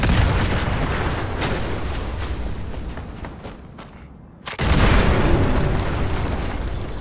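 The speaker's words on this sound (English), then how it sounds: "Explosion." An explosion in the video game Fallout 76 hits with a sudden loud boom partway through, over a dense, roaring noise bed that continues before and after the blast.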